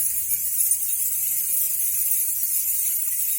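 A percussion effect instrument of many hanging metal keys, shaken rather than struck, gives a faint, continuous high shimmer of tiny clinks, like light rain, steady throughout with no voices.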